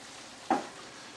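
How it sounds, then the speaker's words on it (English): One short scrape of a spoon stirring kale and collard greens with vegetable seasoning in a pot, a quick soft swish against otherwise quiet background. "I'm going to stir all of this in."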